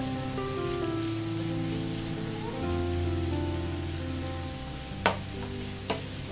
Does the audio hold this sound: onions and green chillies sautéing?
yes